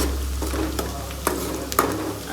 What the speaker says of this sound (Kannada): ಫಸ್ಟು ಆಯಿಲಲ್ಲಿ ಈರುಳ್ಳಿನ ಫ್ರೈ ಮಾಡ್ಕೊಳ್ಬೇಕು